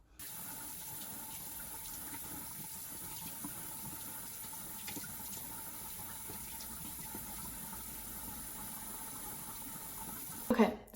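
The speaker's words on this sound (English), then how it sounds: "So again, with some warm water, rinse it off." Warm water runs steadily from a bathroom sink tap while a face is rinsed, a constant close hiss and splash that holds unbroken, ending in a brief louder splash.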